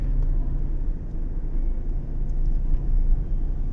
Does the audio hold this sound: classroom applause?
no